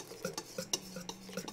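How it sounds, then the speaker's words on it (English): Eggs are whisked into a heated milk mixture with quick, rhythmic clicks of a whisk against the bowl, close and fairly soft, with no talk. "Tempering is whisking the eggs fast enough so they don't scramble."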